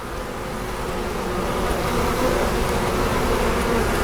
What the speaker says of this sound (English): see here are bees that were part of the swarm that I caught a couple weeks ago